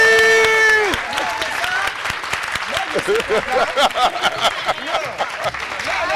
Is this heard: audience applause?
yes